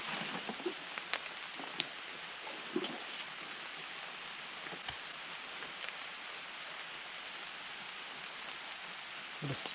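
Rain falls steadily in the woods, a continuous soft hiss of drops with occasional louder close patters on nearby surfaces.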